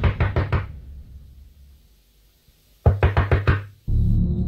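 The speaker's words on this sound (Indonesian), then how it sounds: "saya rasa mungkin ketukan tersebut masih lagi kedengaran. Tapi kali ini datang daripada pintu rumah saya." Two quick bursts of four sharp knocks on a house door, loud and close, separated by a quiet pause, followed by a low rumbling drone.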